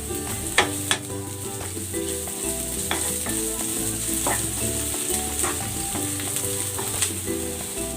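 Garlic sizzles and fries steadily in a hot pan while a utensil stirs and scrapes, with tonal hum in the background, a close, continuous crackle with occasional clicks for pork rib cooking.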